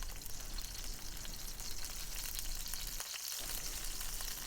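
Minced garlic and ginger fry in a pan for a Thai-style red curry, giving a steady, close, full sizzle that dips briefly before carrying on.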